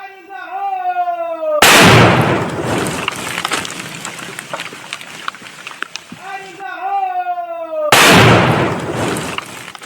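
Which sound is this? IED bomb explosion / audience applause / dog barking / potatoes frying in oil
IED bomb explosion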